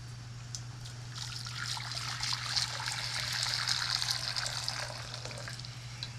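Warm water trickles and splashes gently and continuously at close range, with a steady low hum running underneath.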